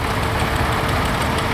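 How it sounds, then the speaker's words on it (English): A restored 1150 export tractor runs at a historic agricultural parade, its engine giving a loud, steady, close rumble with a knocking, low-pitched beat. "An unusual tractor, the big one there, the 1150. Would have been an export tractor, beautifully restored."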